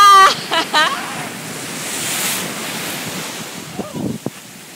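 Rough surf at Jupiter Beach, Florida, a steady broad wash of breaking waves mixed with wind buffeting on the microphone, with voices briefly heard at the start and again near the end.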